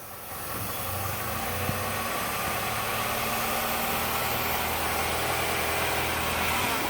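Nissan NV200 van being driven, its steady engine drone and road rumble continuous and fairly loud throughout, with a low mechanical hum from the front end and no talking.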